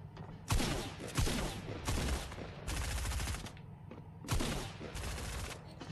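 Repeated loud gunfire bursts from Fortnite gameplay, several heavy blasts and rapid volleys in quick succession with a dense, continuous battle din between them.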